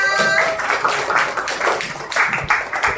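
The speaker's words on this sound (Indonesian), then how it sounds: "lanjut untuk tepuk tangan buat Liviana" A small group claps in an indoor classroom session, a sparse, uneven patter of hands, fairly close and moderately loud, with a faint sustained tone at the start.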